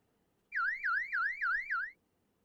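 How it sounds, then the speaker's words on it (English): A 120-decibel U-lock alarm shrieks in five rapid, rising electronic chirps, loud and close, and then cuts off into quiet. "120 decibel U-lock alarm."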